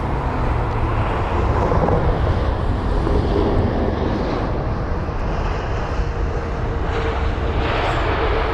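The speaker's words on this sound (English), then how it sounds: "We have an A320neo, this is BA541, a flight from Bologna." Airbus A320neo airliner at London Heathrow, a loud broad engine roar that holds steady throughout, close by and mixed with wind buffeting, with no voices.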